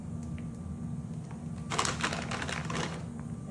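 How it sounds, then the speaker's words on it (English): Unwrapped Rolo candies dropped into a dish, a quick cluster of light clattering taps in the middle of a quiet background. "just dropping these Rolos in here"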